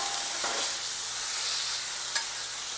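Chorizo frying on a Blackstone griddle while a spatula breaks it apart, a close, steady sizzle with two brief scraping strikes from the tool and no talk.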